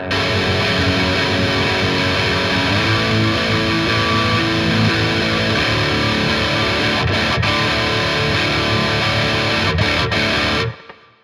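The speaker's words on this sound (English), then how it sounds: "right when the distortion comes in, you'll notice that it's actually the same exact chords" Heavily distorted electric guitar strumming sustained chords, loud and thick, ringing continuously before cutting off abruptly at the end.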